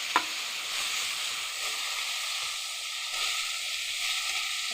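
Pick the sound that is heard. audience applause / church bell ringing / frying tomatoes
frying tomatoes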